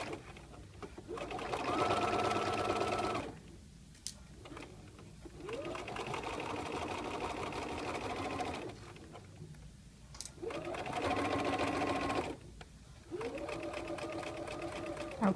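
A sewing machine stitching a 5/8 inch seam on a fly front zipper, running in several sustained whirring bursts separated by brief pauses, close and steady.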